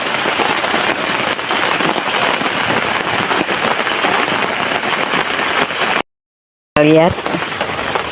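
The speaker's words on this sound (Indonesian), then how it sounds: "Cukup deras hujan hari ini." Heavy rain pounds a tent at a campsite in a steady, dense, close roar; the rain briefly cuts out, then returns as someone speaks over it.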